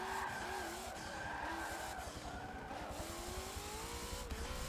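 A car drifting around Suzuka East in the racing video game Forza Motorsport 7, tires squealing continuously over a droning engine whose pitch shifts and slides, loud and close with no talking.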